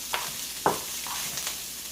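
Super 7 salad of broccoli, Brussels sprouts and lettuce sizzles in an oiled skillet with a steady frying hiss and a few faint stirring scrapes, close and fairly quiet, with no talking.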